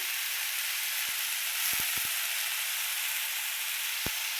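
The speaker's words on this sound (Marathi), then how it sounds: "भाजू दे तेलात चांगलं." Food sizzles steadily in hot oil in a pan, a constant bright hiss with a few soft clicks of a utensil, and no one speaking.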